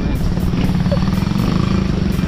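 Motorcycles wading through floodwater on a flooded street, with a steady engine drone under continuous water churn and people talking over it throughout.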